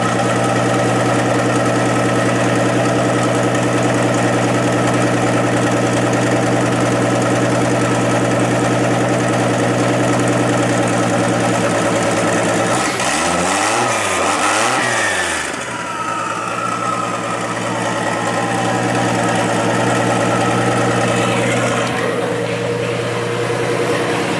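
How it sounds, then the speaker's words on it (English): Single-turbo 2JZ engine in a MKIV Toyota Supra, started for the first time in years and running lean without coolant, holds a loud, steady idle with a continuous low rumble and a brief wavering dip midway. "So there it is, boys. We got a running Supra."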